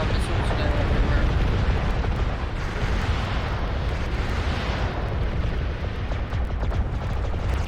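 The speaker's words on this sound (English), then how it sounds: "I saw missiles go everywhere." Missile explosions in the MechWarrior Living Legends video game form a dense, continuous, loud rumbling roar of overlapping blasts that never lets up.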